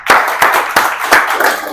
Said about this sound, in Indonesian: berarti tepuk tangan yuk